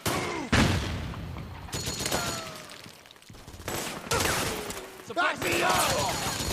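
Gunfire bursts from a Metal Gear Solid 4 battlefield crack out in loud, overlapping volleys and booms, with shouted voices in between and under the shooting.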